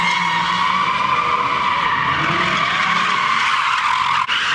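Ford Mustang at a large street car meet, tires screeching in a sustained loud skid with engine roar underneath, steady for several seconds before a brief dip near the end.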